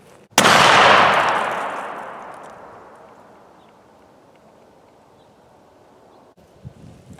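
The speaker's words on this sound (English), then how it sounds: "So now we're going to see if I can make a heart shot at 50 yards with this gun that's been loaded for 6 weeks or so." A single loud gunshot fires at a heart-shaped target 50 yards away outdoors. The sharp crack rings out and decays slowly across several seconds, followed by quiet outdoor ambience and a faint click near the end.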